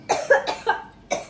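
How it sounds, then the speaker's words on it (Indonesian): A person coughs several times in quick succession, sharp close bursts with brief gaps between them, alone without talk. "Sampai batuk lo bacanya."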